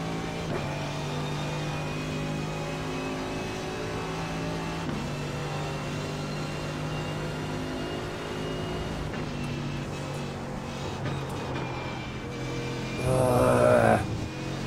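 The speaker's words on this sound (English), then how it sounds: "Then we get the engine braking as well." Race car in iRacing on track, its engine droning steadily then dropping in pitch under engine braking, with a brief louder burst near the end.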